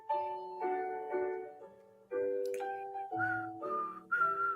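Person whistling a short, melodic tune nearby, a string of clear, quiet notes stepping up and down in pitch with brief pauses between phrases.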